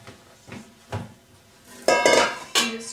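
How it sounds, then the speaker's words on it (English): Washed rice being strained from a pot into a container with a big strainer, heard as a few soft clinks and then louder bursts of pouring water and rattling grains, close by and with no talking. "you strain the rice in there"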